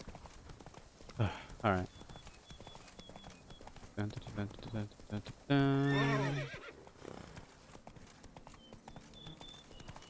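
Horse hooves clip-clop in The Witcher 3 Blood and Wine, with a horse neighing loudly midway and a player talking briefly over the steady game sounds.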